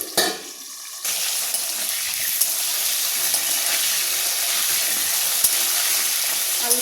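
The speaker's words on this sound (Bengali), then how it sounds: "আলুটা এদিকে ভাজা হতে হতে আমি পাশে আবার মাছগুলোকে ভাজতে বসিয়ে দিয়েছি অন্য একটা কড়াইয়ে" Cut potatoes frying in a pan beside a wok of frying fish, a dense, loud hiss of oil that swells after a brief quieter start and carries on with occasional small clicks and stirs.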